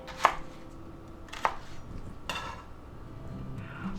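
A knife chopping bok choy on a cutting board, three separate sharp chops spaced about a second apart, close and clear over quiet room noise.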